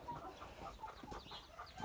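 Hens and a rooster in a summer aviary, with soft scattered clucking at moderate distance over low farmyard rumble, a louder burst near the end.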